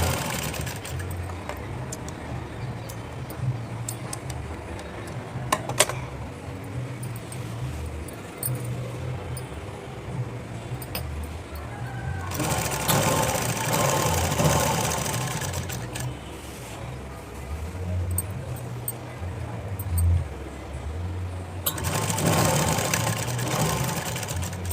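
A sewing machine runs steadily as it stitches the frills of a lehenga, a continuous mechanical whir with brief pauses and bursts of louder running.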